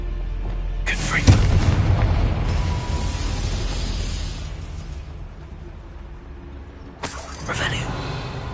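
Confringo spell explosions in Hogwarts Legacy, two sharp blasts several seconds apart with a crackling, booming tail after the first, while a voice speaks over the game sounds.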